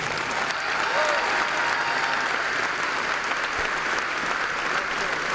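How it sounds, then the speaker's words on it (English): Sustained applause from a school kickoff audience fills the room, steady and dense throughout, with no one talking over it. "Great big round of applause."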